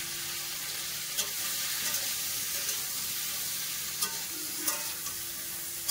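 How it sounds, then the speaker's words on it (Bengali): Pointed gourd (potol) frying in a pan, a steady broadband sizzle with occasional louder crackles and pops, close and continuous without talk. "এর পাশে বেশি করে পটল ভাজবো।"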